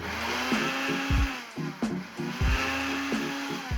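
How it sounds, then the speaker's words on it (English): A three-blade electric blender pulses dried onion and parsley seasoning in short repeated bursts, each whirring burst rising then cutting off, with brief gaps between. "I wanna pulse it in the blender just for a couple more seconds"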